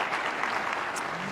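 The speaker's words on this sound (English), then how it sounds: "you can applaud yourselves" Audience applause for local government officials after remarks on pandemic recovery, a steady, full burst of clapping filling the room at even loudness.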